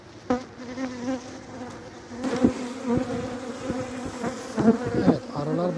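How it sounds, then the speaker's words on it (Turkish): Aggressive honey bees at an opened hive with a queen that is not laying buzz steadily in a dense, close swarm, a continuous droning hum that swells and dips with bursts of nearby wingbeats. "Evet, arılar bayağı saldırgan."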